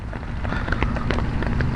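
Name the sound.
heavy rain on flooded streets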